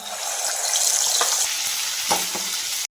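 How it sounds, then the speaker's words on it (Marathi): Ground wet masala paste for a drumstick curry frying in hot oil, a loud, continuous bright sizzle with a couple of stirring scrapes, close up, cutting off abruptly at the end. "वाटण हे तेलामध्ये छान असं छान फ्राय व्हायला लागलेलं आहे"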